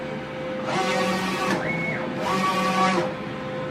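A commercial DTF printer runs a nozzle check, its print head whirring in two sustained passes with rising and falling motor tones, close and steady with no one speaking.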